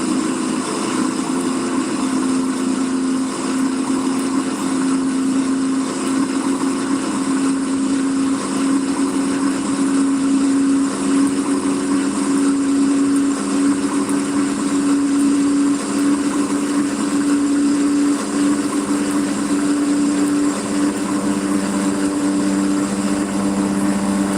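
A straight-pipe truck with open-topped stacks rumbles steadily in American Truck Simulator, a loud continuous engine drone with a slowly wavering pitch and no talk.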